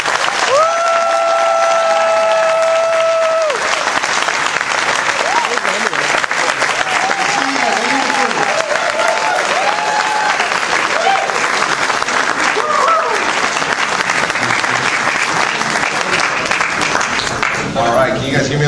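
An audience claps steadily in a hall to welcome a speaker onto the stage at a presentation in London, with loud sustained applause, a few cheers and voices under it throughout.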